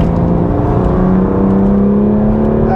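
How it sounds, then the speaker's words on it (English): BMW M2 Competition with a manual gearbox, its engine blipping and rev-matching on a gear change, a loud steady drone with rising tone, close and alone. "The car automatically rev matches."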